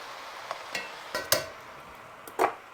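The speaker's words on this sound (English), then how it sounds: "Stir that up." Chili meat and vegetables being stirred in a pot, a few soft scraping and clinking strokes of a spoon spaced irregularly, fairly quiet and close with no talk.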